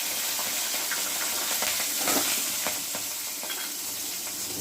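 Nigella seeds and slit green chilies sizzle in hot oil as a spice tempering for a thin fish curry, a dense, steady crackle with scattered pops, close up and with no talking.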